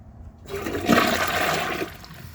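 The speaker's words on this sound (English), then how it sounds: "let's see how it flushes with a dry bowl" A 2009 Gerber Avalanche toilet flushes with a dry bowl: a sudden loud rush of water that swells, holds for over a second, then tapers off, heard close and alone.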